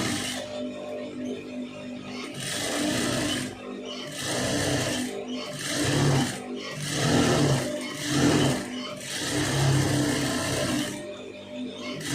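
A sewing machine stitches a lined blouse in a series of rhythmic bursts of whirring and clatter, separated by short pauses and heard close by.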